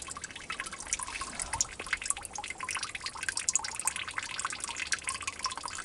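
Maple sap drips and trickles into a collection tank, a busy patter of small irregular drops over a continuous watery rush, close-up, with no voices.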